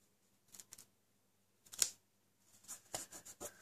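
Scissors snip through ribbon for a handmade card, giving a few quiet, close clusters of crisp cutting sounds separated by short silences.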